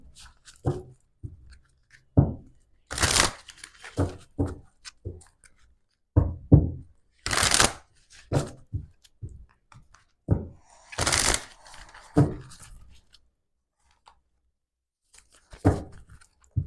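Tarot cards being shuffled and handled, with repeated bursts of riffling and soft slaps in irregular rhythm, fairly close and loud, with short pauses between bursts and no talking.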